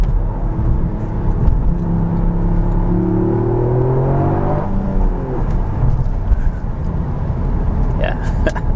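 A Toyota GR Yaris Circuit Pack engine pulls hard through second gear on a private road, its note climbing steadily in pitch, then dropping at a shift before rising again, with someone talking over the steady cabin drone.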